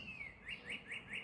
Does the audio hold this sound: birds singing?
yes